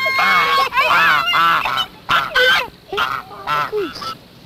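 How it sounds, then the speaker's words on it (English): Geese honk loudly and repeatedly in short bursts, several calls overlapping close by, with brief pauses between groups of honks. "Geese?"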